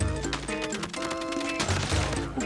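Rapid automatic machine-gun fire from Call of Duty Mobile rattles in a dense, continuous burst with layered game sound effects, loud and close throughout.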